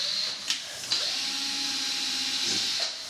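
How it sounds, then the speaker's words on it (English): A power drill with a 6mm bit bores into a coconut, a whining motor tone that rises as it spins up, steady through the hole, with short knocks at the start, close and alone. "we're going to drill 2 holes"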